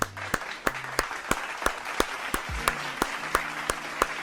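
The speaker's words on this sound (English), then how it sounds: "here, I applaud you with sound effects and actual hands" An applause sound effect layered with real hand clapping: about a dozen sharp claps at a steady, even rhythm, close and clear over a soft crowd-applause wash.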